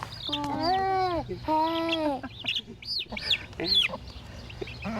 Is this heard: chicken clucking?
yes